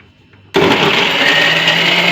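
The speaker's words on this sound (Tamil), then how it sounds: "சுவையான பூண்டு சட்னி அரைச்சிட்டு வந்தாச்சு" A mixer grinder grinds garlic chutney in its jar, switching on abruptly after a brief quiet moment with a loud, steady whirring roar that holds constant to the end, no voices present.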